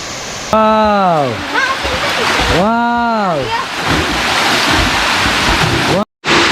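Rushing water at Wang Pa waterfall in Bandarban gives a steady, loud roar throughout, with strong swooping tonal sounds rising and falling over it early on and a brief dropout near the end.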